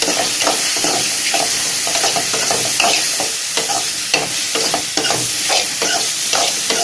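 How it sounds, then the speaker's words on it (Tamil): A spatula scrapes and stirs through mushrooms frying in a pan, repeated rhythmic scraping strokes over a loud, steady frying hiss, heard close up. "இதையும் போட்டு நல்லா கிண்டுங்க"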